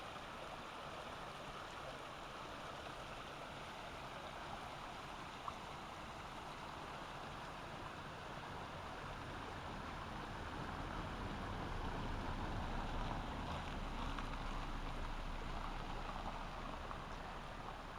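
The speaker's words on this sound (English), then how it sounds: "as you can probably hear, the sound of water flowing in the brook" Water running in a brook beside a large weeping willow, a steady, faint broadband babble that swells slightly toward the end, with no voices.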